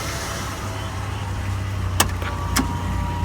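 A police truck engine runs at a steady idle close by after a battery swap, its low rumble unbroken, with two short clicks or clunks near the end, and no one talking.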